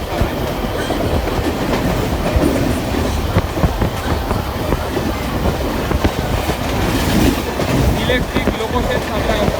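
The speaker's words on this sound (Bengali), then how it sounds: "ট্রেন মোটামুটি ভালোই স্পিডে চলছে" An electric fast local train on the Howrah–Haldia line runs at speed, giving a steady loud rumble with rhythmic clickety-clack of wheels over rail joints throughout, close and continuous.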